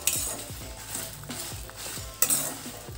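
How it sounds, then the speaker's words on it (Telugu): Fenugreek seeds roasting in a pan over a low flame, a soft dry sizzle broken by rhythmic scraping strokes of a spoon against the metal, close and without talk. "మెంతులు వేస్తున్నానండి 1 టేబుల్ స్పూను. ఇవన్నీ దోరగా వేయించుకోవాలండి."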